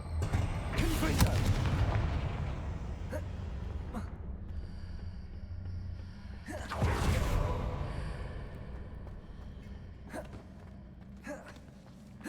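A Confringo fire-blast spell bursts loudly in the Hogwarts Legacy video game, two big booming explosions a few seconds apart with a rumbling tail and scattered smaller crackles.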